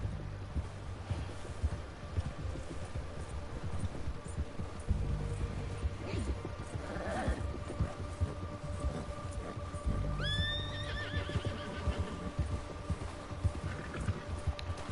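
Horse neighing and galloping in the video game Red Dead Redemption 2, a distinct whinny rising partway through over a faint bed of hooves, game noise and background voices.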